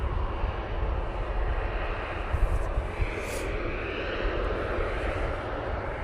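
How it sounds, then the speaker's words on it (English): A KLM Boeing 737-800 jet at Manchester Airport, bound for Amsterdam Schiphol, gives a steady, broad engine roar that holds at an even loudness throughout, with no voices over it. "KLM 737-800 going back to Amsterdam Schiphol"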